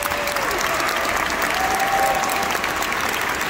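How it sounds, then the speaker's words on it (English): A large audience at a Detroit movie premiere at The Fillmore applauds the choir, dense steady clapping that fills the hall without pause. "How about a round of applause for the choir again?"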